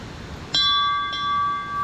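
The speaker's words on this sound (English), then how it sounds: "This bell said that you could ring it to keep the bears away." A bell rung by hand on a trail in Japan's Kiso Valley to scare off bears strikes once, leaving a bright ringing tone that sustains and slowly decays, with a fainter second strike partway through, close by and outdoors.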